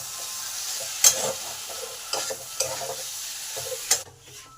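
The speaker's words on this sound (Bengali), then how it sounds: "ভালো করে কষে নেব।" Potatoes, onion and ground pointed gourd seed paste stir-fried in a pan, with a few distinct scraping stirs of the spoon over a soft steady sizzle, close and fairly quiet.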